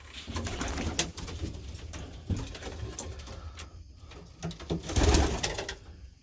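Pigeons coo close by in repeated soft, throaty calls over a busy background of flapping, shuffling and scratching from a loft of many birds, with no talking.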